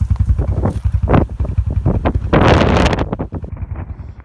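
Wind gusting across a cold, exposed hilltop along backcountry trails, buffeting the microphone in loud, rumbling bursts with a few thumping knocks and a stronger sustained rush near the middle.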